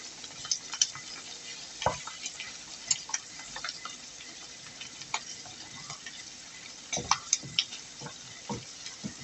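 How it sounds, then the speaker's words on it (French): A fork scrapes and clicks against a frying pan while stirring fried rice, giving irregular metallic ticks and scrapes over a soft, steady sizzle. "j'entends la fourchette dans la poêle, ça me fait mal aux oreilles"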